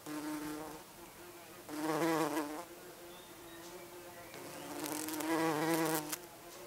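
Insects buzz around flowering turnip plants, a steady droning hum that swells loud twice as they pass near the microphone, with no talking.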